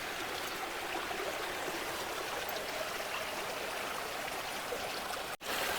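A stream runs steadily at an Ooty tea estate, a continuous broadband rush of flowing water, close and even, with a brief dropout near the end.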